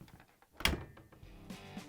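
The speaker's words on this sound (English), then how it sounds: "Close the door." A Bosch dishwasher door closes with a single solid thunk in a quiet kitchen, followed by faint handling noise and light rustling.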